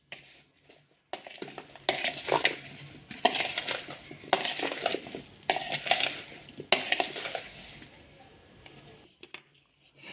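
Guava chaat tossed and mixed in a bowl, giving a run of close, scraping and clinking strokes in bursts over several seconds, with brief pauses between.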